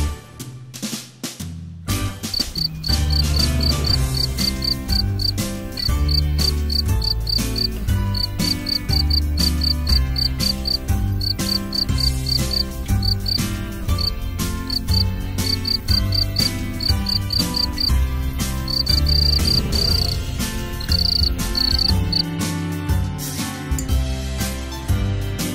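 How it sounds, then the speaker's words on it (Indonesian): Rapid, high-pitched cricket chirping pulses steadily through loud, busy music with a strong beat, fading out near the end. "Jangkrik."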